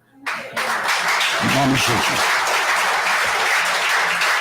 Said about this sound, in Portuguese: Dá um aplauso ao pai.